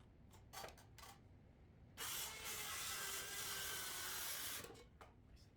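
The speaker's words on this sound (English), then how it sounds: "my circular saw isn't cut out to be cutting something so thick" Circular saw biting through a thick wooden edge for a DIY workbench, a loud steady whine lasting about three seconds, bracketed by short bursts of tool noise before and after.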